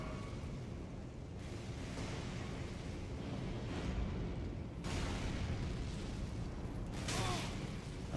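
An explosion in the Elden Ring video game, Shadow of the Erdtree expansion, a faint rolling burst with sharp cracks and rumbling tails over a continuous low game background.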